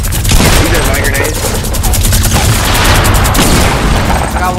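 Rapid bursts of gunfire and booming grenade blasts from the video game Fortnite, dense and loud throughout, with sharp repeated shots layered over low explosive rumbles.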